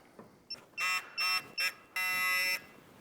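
A digital torque wrench, used while installing motor mounts on a 2005-2010 Mk5 VW Jetta, gives several close electronic beeps: short chirps, then a longer sustained tone, fairly quiet.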